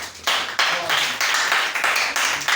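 An audience claps in quick bursts of applause, loud and close, with brief surges and lulls in a steady run of hand claps over a couple of seconds.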